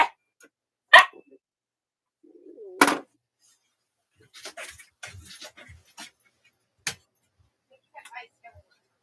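A dog lets out several short, sharp barks indoors, spaced irregularly, with quieter scuffling and vocal noises between them.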